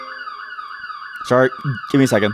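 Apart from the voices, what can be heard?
phone alarm going off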